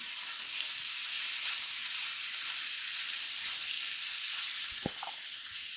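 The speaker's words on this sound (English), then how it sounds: "So I'm going to go ahead and drop my bacon down over here." Bacon frying on a hot griddle, a steady close crackling sizzle that holds even throughout, with one small tap near the end and no talking.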